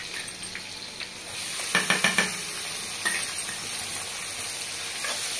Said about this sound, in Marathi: कांदा जरा लालसर भाजून घ्यायचा।